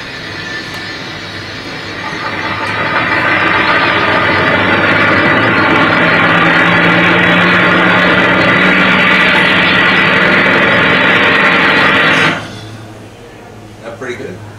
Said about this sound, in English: After the bell signal from the commander, the motors are started and well off.